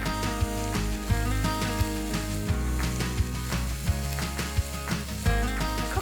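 Onion and guanciale sizzle steadily in a pot for a kangaroo and Guinness stew, with periodic knocks and scrapes of stirring, all under continuous tonal background music.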